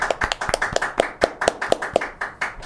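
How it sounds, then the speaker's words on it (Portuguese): One person claps for the military police, a brisk, loud run of about a dozen sharp claps at close range in a steady rhythm with no talking over them. "Palmas para as polícias militares"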